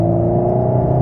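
A race car engine drones steadily at high revs from inside the vehicle on the Dreux circuit, a constant loud motor hum with no talking.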